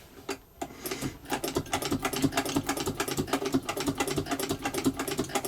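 A Singer 66 sewing machine stitches through leather with a fast, steady mechanical clatter of rapid needle strokes, close and fairly loud, starting after a few brief knocks.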